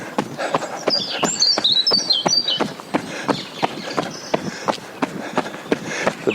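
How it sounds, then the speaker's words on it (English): Loud outdoor birdsong brings bright chirps and tweets over steady, rhythmic footsteps that keep going throughout. "The birds here are very loud."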